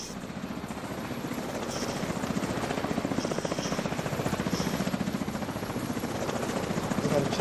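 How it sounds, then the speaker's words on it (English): A helicopter in the video game The Division 2 thumps overhead with a steady rotor chop that slowly grows louder, carrying over faint game sounds. "We got a chopper inbound again?"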